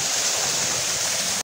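Cold spring water welling up from the ground and flowing steadily, a close, loud, even rushing wash with no talking, cutting off abruptly at the end.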